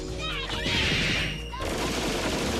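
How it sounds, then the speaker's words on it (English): A rapid volley of laser bolts fired in the fighting game Skullgirls, a dense burst of sharp crackling shots over a bright hissing sweep, loud and close, with game music and effects around it. "It unleashes a volley of laser bolts"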